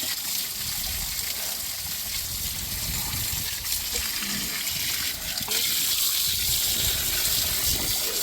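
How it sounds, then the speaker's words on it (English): Water gushes steadily while a 1991 Dodge Caravan radiator is flushed, a continuous broadband rush close to the source, running evenly throughout with no speech. "It seems to be flowing water okay"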